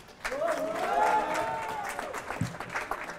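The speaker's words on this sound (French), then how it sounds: "sous applaudissements de la foule en délire" A crowd at a Savoie trade fair applauds and cheers at an event with students, a broad wash of clapping with a raised voice rising over it, heard at moderate distance.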